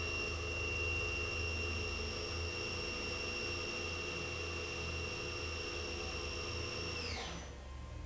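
A Chevalier vertical machining center's spindle spins at 5,000 RPM, giving a steady high-pitched whine over a constant mechanical hum that holds evenly, then winds down abruptly near the end as the spindle brakes.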